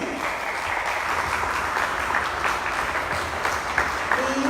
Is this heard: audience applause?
yes